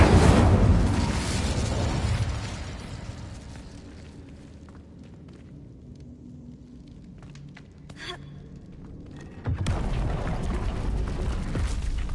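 An Incendio fire spell cast in Hogwarts Legacy, a loud whooshing burst that fades into a quieter stretch with small crackles before another strong rush of flame returns near the end.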